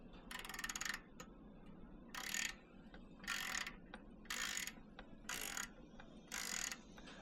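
A socket wrench ratchet loosens the exhaust clamp bolt on a 2024 ZX-6R during a slip-on exhaust install. Six close, sharp ratcheting bursts come in a steady rhythm over a low background hum, with no talking.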